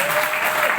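A short burst of audience applause at a retail store training program in Lucknow: dense, loud clapping from a crowd, steady throughout without a break.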